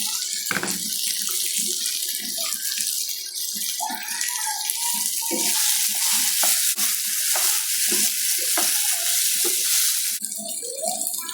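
Fried potato pieces going into frying tomato in a pan and being stirred, with a continuous loud sizzle and repeated scraping, clattering stirs throughout.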